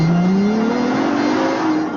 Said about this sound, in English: The sound of 12 cylinders properly arranged in a V.